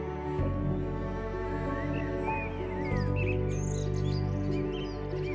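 Migratory birds in Siberian summer lakes and meadows give scattered chirps and short tweeting calls, fairly faint and set under a loud sustained musical drone.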